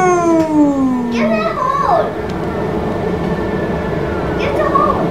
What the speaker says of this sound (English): oh, another fast train going.